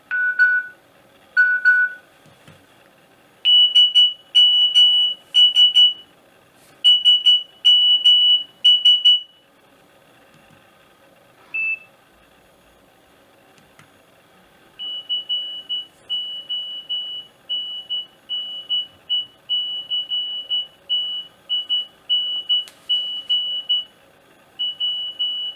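Nokia 7210 mobile phone playing a series of message alert tones, short beeping and chiming bursts in groups separated by pauses, then a longer run of rapid repeated beeps, bright and close.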